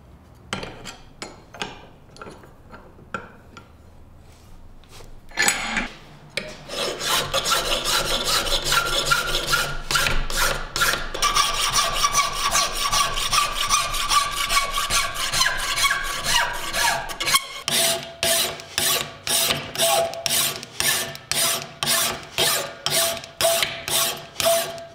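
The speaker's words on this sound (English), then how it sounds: "Let's begin the filing." A hand file works a forged steel spoon in close, rhythmic rasping strokes, starting slow and sparse, then settling into a dense, steady filing, ending in distinct back-and-forth strokes.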